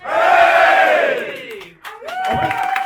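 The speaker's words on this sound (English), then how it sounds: "3 cheers for Ian. Hip Hip hip! Hip hip" A crowd at a Two Ball Rally presentation roars a loud, drawn-out hip-hip-hooray cheer, dips briefly, then rises into a second hearty shout together.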